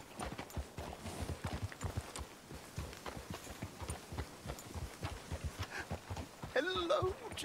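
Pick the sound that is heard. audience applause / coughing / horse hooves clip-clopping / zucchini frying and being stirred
horse hooves clip-clopping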